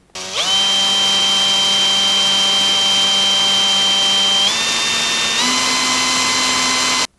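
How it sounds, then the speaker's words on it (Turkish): A small drill bores a tiny hole of about 1 mm for a homemade gas stove, giving a loud, close, steady high whine that holds for several seconds, shifts pitch slightly partway through, then stops. "O yüzden şunun ucuyla buraya minik bir delik deleceğim şimdi."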